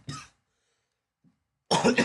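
Two coughs from a person with an irritated throat: a short one first, then a near-silent pause and a louder, rougher burst close to the microphone.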